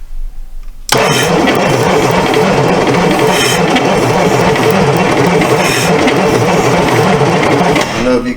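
A 1970 Pontiac LeMans engine, abandoned for years, cranks with a dragging starter and catches, then runs loud and steady with a rough, lumpy rhythm close by.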